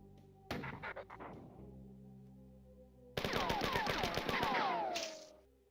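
Rapid bursts of automatic gunfire from the 1994 video game Marathon, loud and close with sharp repeated cracks, arriving in a brief volley early on and then a longer dense barrage with ricochet-like whines before fading.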